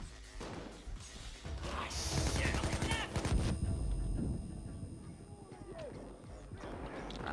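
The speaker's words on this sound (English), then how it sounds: "Flashbangs." Sharp bursts and bangs from flashbang grenades go off amid chaotic gunfire in the Payday 2 video game, loud and close, while voices shout over the noise.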